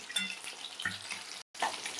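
Chicken pakoras made with Gobindobhog rice, coated in turmeric, frying in hot oil: a close, bubbling sizzle with crackles and light stirring, broken by a brief cut to silence.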